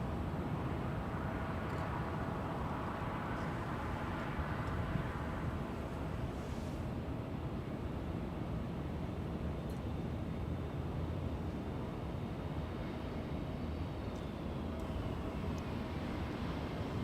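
An American Airlines jet arrives at LAX on a flight from Las Vegas, giving a steady, broad roar that holds at an even level throughout with no voices.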